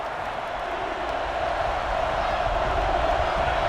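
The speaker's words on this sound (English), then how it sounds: "So this crowd is making their presence felt." Stadium crowd in the NCAA Football 09 video game, a steady broad roar that holds evenly throughout with no distinct cheers or peaks standing out.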